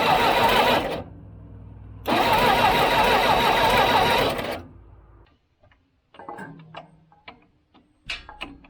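An old diesel engine on an abandoned crane cranks in two loud, rattling bursts separated by a short lull. Scattered clanks and knocks follow in near quiet.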